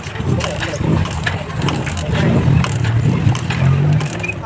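A motorcycle engine cranked after ignition coil and spark plug cap work, a loud continuous low mechanical churn and rumble that never clearly catches, with a voice speaking over it.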